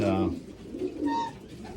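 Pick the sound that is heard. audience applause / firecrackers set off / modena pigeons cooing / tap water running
modena pigeons cooing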